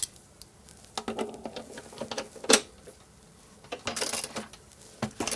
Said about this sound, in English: I can definitely put it on my other ratchet